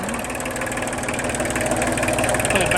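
Kubota L2201G tractor with a 26 hp diesel engine idling, a steady close rumble with a rapid, even knocking pulse that holds throughout with no talk.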